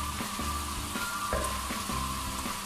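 Masala frying in a karahi as pieces of fried chicken are added, giving a steady loud sizzle with periodic scraping knocks from stirring, heard alone.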